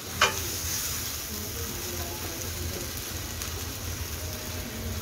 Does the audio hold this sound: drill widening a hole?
no